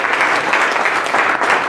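Audience at an airport briefing gives Greg a round of applause, loud, dense clapping from many hands throughout the short burst.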